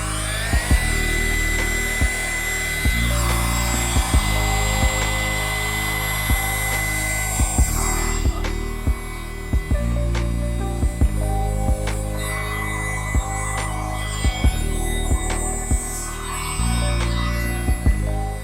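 A Ryobi USB lithium blower fitted with its sweeper attachment runs continuously, a close, loud, steady motor whine with a droning hum and an airy rush, its pitch shifting slightly partway through, with occasional small clicks and no talk.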